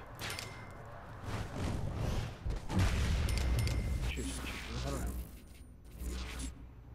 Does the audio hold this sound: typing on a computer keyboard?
no